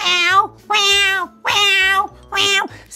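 A human voice imitates a cat meowing, four drawn-out, loud meows in a row with short pauses between them.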